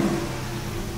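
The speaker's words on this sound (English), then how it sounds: "I'm gonna turn the car on" A car engine running, a low steady hum with a faint drone held evenly throughout, fairly close and with no talk over it.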